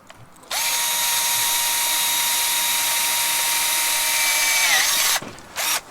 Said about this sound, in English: I'm starting to drill through pretty well.